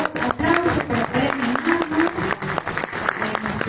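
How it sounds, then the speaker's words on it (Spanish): Audience applause at a live concert presentation of a Peruvian duo, a steady wash of clapping running the whole time with voices and some musical tones mixed underneath. "quisiera pues que le brinden un fuerte voto de aplauso"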